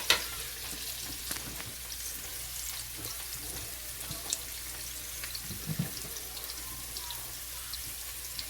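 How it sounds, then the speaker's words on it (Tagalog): Garlic and onions fry in a pan with a soft, steady sizzle and crackle, faint and continuous with occasional small pops and clinks, heard without talk. "My garlic, my onions are frying."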